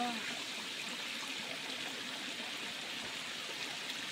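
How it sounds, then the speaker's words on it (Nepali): A waterfall and stream running in a jungle make a steady, even wash of flowing water, continuous and fairly near, with no clear breaks for the whole stretch. "यहाँनिर चाहिँ पानी झर्नाहरू पनि छ है हाम्रो जङ्गलमा चाहिँ यस्तो झर्नाहरू पनि छ"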